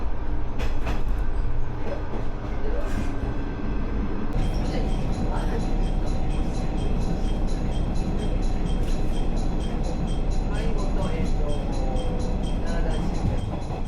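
Single-car local train rolling through Tokushima, Japan: a steady loud rumble of wheels on track with rhythmic clacking and a sudden shift in the noise partway through, heard from inside the carriage.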